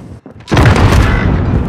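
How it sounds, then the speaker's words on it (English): A single heavy blast of gunfire in Call of Duty: Modern Warfare hits loud and close after a brief quieter moment, then a rumbling tail fills the rest of the moment. "I'm taking fire!"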